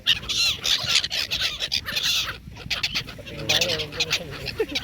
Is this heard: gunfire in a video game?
no